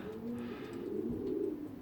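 Racing pigeons coo softly just outside the loft, a low steady throaty murmur from several birds close by, continuous with no speech.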